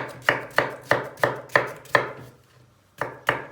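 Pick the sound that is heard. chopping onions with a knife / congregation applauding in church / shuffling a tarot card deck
chopping onions with a knife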